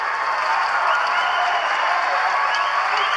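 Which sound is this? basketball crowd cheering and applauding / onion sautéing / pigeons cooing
basketball crowd cheering and applauding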